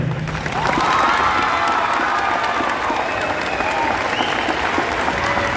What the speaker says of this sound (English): Trent Roth, we can applaud for him.